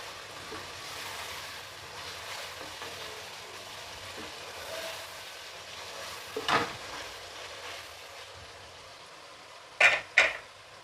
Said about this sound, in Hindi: अब इसकी अच्छे तरीके से भुनाई करेंगे हम।